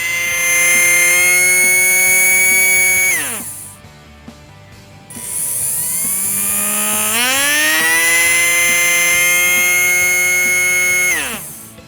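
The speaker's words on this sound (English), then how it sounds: "A lower duty cycle means the motor spins slowly." A small DC motor under Arduino PWM speed control whines with a rising and falling pitch, spinning up, cutting off briefly, then ramping up again, close and loud with no talk.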